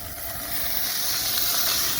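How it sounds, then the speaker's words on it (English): A slice of meat sizzles in a hot pan with olive oil, a steady close hiss that holds even and continuous throughout. "See that sizzle?"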